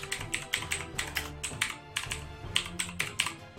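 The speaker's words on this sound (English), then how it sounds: "I'm just going to type in Android messages." Rapid typing on a computer keyboard, a steady run of close, crisp key clicks with a few brief pauses and no talking.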